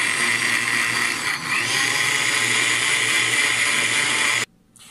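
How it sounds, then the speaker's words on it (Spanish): A blender runs steadily at high speed, liquefying bell pepper with water and sour orange juice, giving a loud, even whir for several seconds before cutting off abruptly near the end. "El próximo paso va a ser licuar estos ingredientes para hacer nuestro jugo."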